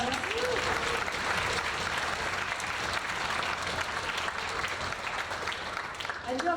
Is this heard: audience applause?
yes